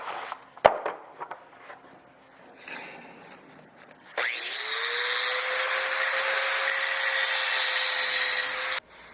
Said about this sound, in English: So I'm going to take a grinder to them and just clean them up a little bit so it's a nice radius